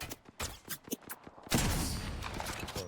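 Gunfire in the shooter game Apex Legends: a quick series of separate shots and impacts, then a heavier sustained burst of fire, fairly loud with no talk.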